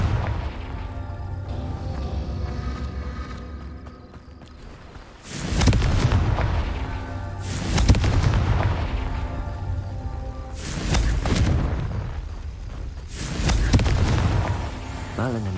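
Repeated booming blasts of the Confringo explosion spell in Hogwarts Legacy, four heavy bursts spaced a few seconds apart over a steady low ambient rumble.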